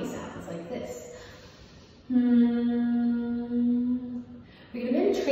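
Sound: person humming imitating a bee

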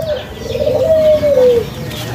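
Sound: caged dove cooing

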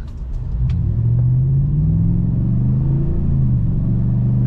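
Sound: pickup truck engine rumbling

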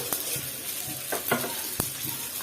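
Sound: whole cumin and fenugreek seeds sizzling in hot oil

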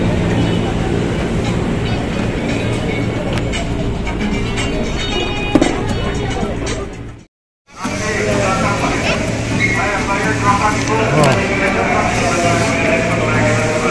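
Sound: KRL commuter train riding toward Cikarang

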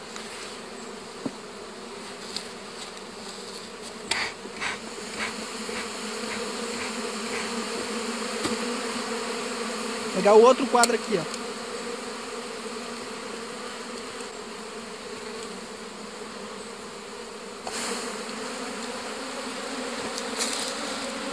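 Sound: honeybees buzzing on a hive frame

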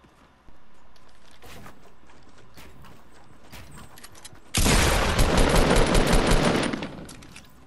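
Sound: gunfire in Fortnite video game battle

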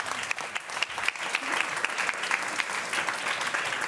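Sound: audience applause for panel guests

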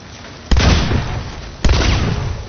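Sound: explosion from thrown explosive in video game Hunt: Showdown

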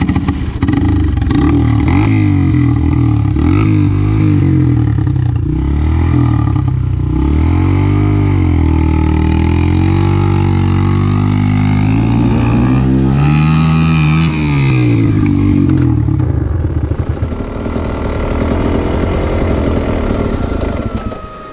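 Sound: dirt bike engine revving on mountain single track

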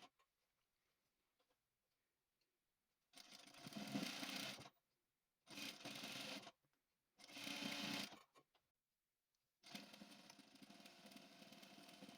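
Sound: sewing machine stitching a shortened dress hem

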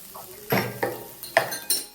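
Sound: vegetables and spices frying on high flame for veg kadhai

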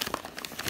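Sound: dog tearing paper wrapping from a BarkBox

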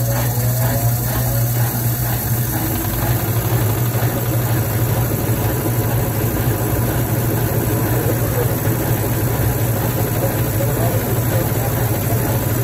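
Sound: 1/3 horsepower washing machine electric motor running

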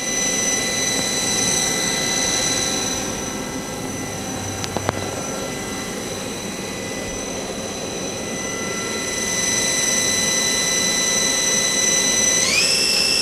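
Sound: Star SV-32J Swiss-type CNC lathe main spindle spinning

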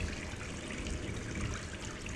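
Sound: running water from tap in Gone Home video game

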